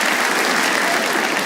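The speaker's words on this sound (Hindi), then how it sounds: "एक बार हमारी टीम के लिए तालियां होनी चाहिए दोस्तों" An audience at a cricket comedy show claps in a brief, dense burst of applause, loud and even throughout, with a faint murmur of voices beneath.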